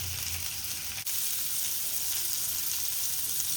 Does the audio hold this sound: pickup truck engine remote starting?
no